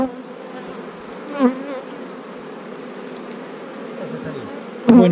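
Steady swarm of honey bees buzzing close by, a continuous droning hum with a couple of brief louder knocks.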